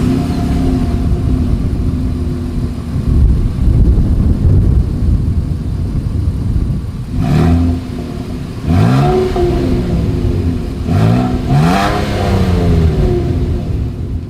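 Idling 2023 Nissan Frontier SV pickup with a single exhaust, then several sharp throttle blips that rise and fall, each rev swelling loudly over a steady low rumble, with no talking.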